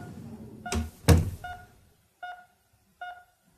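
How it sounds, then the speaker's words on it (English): A door is shut carefully in a quiet room: a soft handle rattle, then a muffled thunk of the door meeting the frame, followed by two faint clicks of the latch. "She closed the door carefully behind her."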